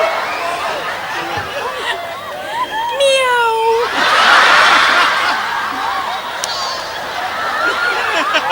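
At a Samoan Teuila Festival entertainment show, a person imitates a cat with several drawn-out, pitched meows, while a crowd laughs and chatters around them.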